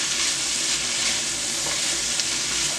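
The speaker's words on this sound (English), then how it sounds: "just saute this like this for a few minutes" Pepper and celery sautéing in a pan make a steady, dense sizzle and crackle of frying, continuous and close for the whole stretch with no talk over it.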